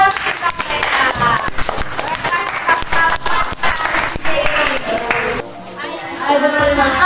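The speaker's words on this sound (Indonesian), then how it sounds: "Iya, tepuk tangan untuk mereka." Children clap their hands in a classroom, rapid uneven bursts of close clapping with young voices chattering throughout, then a brief pause before talk and noise pick up again.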